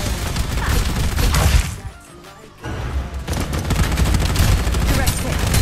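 Gunfire in the video game Farlight 84, loud rapid automatic bursts and crashing impacts, breaking off briefly in the middle before the shooting resumes just as intensely.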